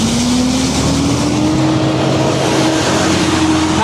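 A big county truck rumbles past close behind an e-bike on the road, a loud steady roar with a slowly rising engine tone amid heavy wind noise.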